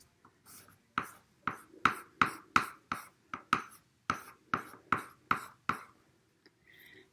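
A coloured pencil scratching across paper in quick, even strokes, a steady run of about a dozen close, crisp swipes.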